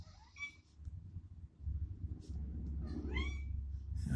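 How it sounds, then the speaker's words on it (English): A house cat meows several times, clear rising and falling cries set against a low steady room rumble, with a quieter chirp in between. "my cat has a lot to add here."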